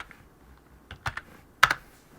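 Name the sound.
typing on a computer keyboard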